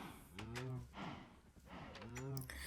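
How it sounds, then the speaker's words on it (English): Minecraft cows mooing on a farm, two drawn-out low moos with a short gap between them, fairly close and clear. "but those are our cows"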